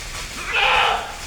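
A single loud, nearby goat bleat rises out of a quiet forest background in a brief, wavering cry.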